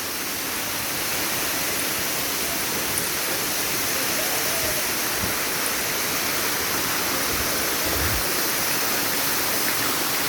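The waterfall at Wat Tham Bon, Thailand, roars steadily and loudly, a dense continuous rush of falling water with no pauses.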